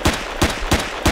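Gunfire in Empyrion Galactic Survival, four loud evenly spaced heavy shots roughly a third of a second apart, each with a deep thump and bright crack, with nothing else heard.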